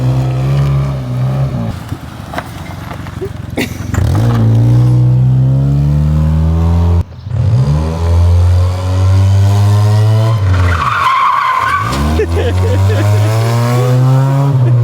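A Honda car engine revs hard in loud surges during a stunt, rising and falling in pitch, with voices talking over it near the end.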